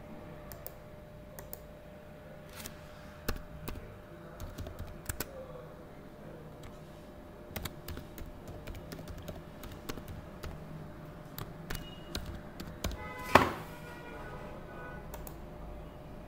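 Typing a username and password on a computer keyboard for an NVR login, with irregular bursts of soft key clicks through a quiet room and one sharper click near the end; no talking.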